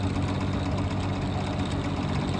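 Vintage box fan running on high speed at about 2000 RPM, a steady, loud broadband whoosh with a low motor hum, constant and unbroken throughout.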